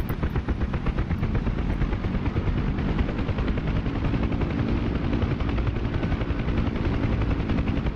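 Bell UH-1 Huey helicopter in the DCS flight simulator, engine and rotor throttling up into a loud, steady broadband roar with rapid blade chop throughout, close and continuous with no talk.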